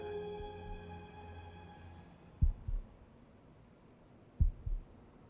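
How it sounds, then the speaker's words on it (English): Heartbeat sound effect from the video game Before Your Eyes: two loud, close double thumps about two seconds apart, following a fading sustained tonal hum. "Oh, the heartbeat noise is back."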